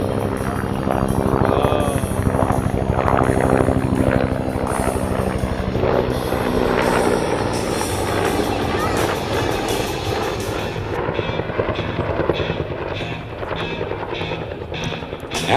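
An AH-1 Cobra attack helicopter flies a simulated rocket-attack demonstration at the Atlanta Air Show, its loud, steady rotor chop and turbine whine dominating throughout, with an announcer talking over it.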